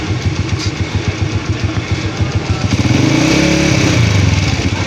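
A Honda CG 125 motorcycle being repaired for a headlight fault idles with a rapid, close thumping putter, then its engine revs up partway through to a louder, rising throb that holds steady to the end.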